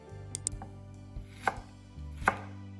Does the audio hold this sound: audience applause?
no